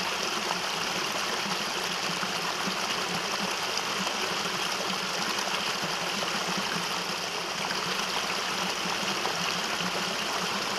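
Stream of water running near a wild campsite in Glen Kinglass, a steady close rushing and trickling that continues unbroken and fairly loud throughout, with no voices.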